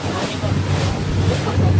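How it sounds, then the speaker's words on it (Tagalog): Waves splash against a boat on Manila Bay with a continuous rushing of surf and water, buffeted by heavy wind noise on the microphone, loud and close throughout the brief moment. "Medyo tumatalsik lang yung alon dito."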